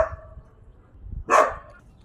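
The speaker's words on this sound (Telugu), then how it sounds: "ఇప్పుడైతే డాగ్ సౌండ్ వచ్చింది" A dog barks once nearby, a sharp loud single bark after a softer yelp-like sound at the start, with otherwise quiet surroundings.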